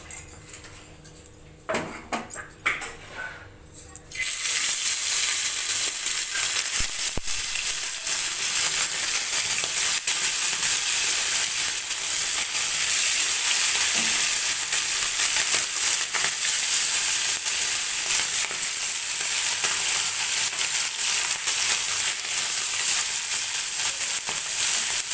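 Fish frying in hot oil in a kadai for a fish curry gives a steady, bright sizzling hiss that starts after a few seconds of clatter and continues unbroken, fairly close.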